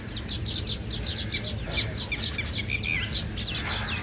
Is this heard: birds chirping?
yes